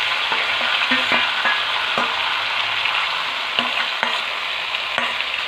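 Marinated mutton tipped into fried onions in a wok, hissing in a steady loud sizzle with occasional scrapes and clanks of stirring.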